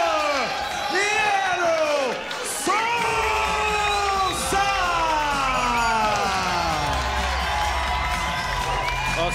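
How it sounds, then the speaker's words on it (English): A Karate Combat crowd roars, whistles and whoops loudly in support of a Dominican fighter before his bout. The arena noise is sustained and dense, with a commentator speaking over it. "Oscar Sosa with unwavering support from the crowd here"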